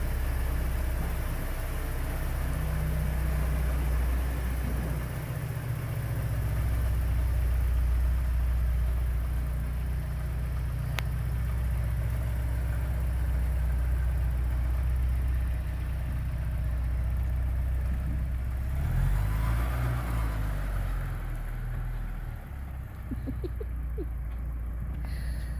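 A Porsche 944 engine runs steadily as the car rolls along, a low continuous rumble that stays close and even throughout, with a brief surge near the end and faint birdsong in the background.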